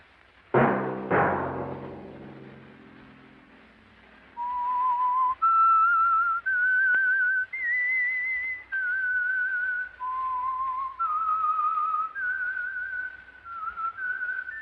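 A musical chord rings out, then a clear, close whistle carries a slow melody of held notes, alone, as the theme of the 1952 radio drama The Whistler.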